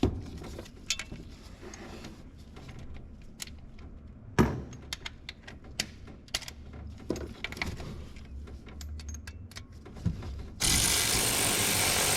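Exhaust manifold stud nuts on a 2005–2010 Chevrolet Cobalt are tightened with a ratchet, giving scattered metallic clicks, tool taps and clinks at close range amid quiet, ending in a burst of steady noise.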